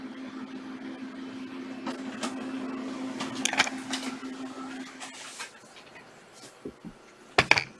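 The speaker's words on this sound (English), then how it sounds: "let me print this sucker out." An inkjet-style home printer feeds and prints a page, a steady mechanical hum running for several seconds with clicks and whirring bursts, then stopping before a few louder clunks at the end.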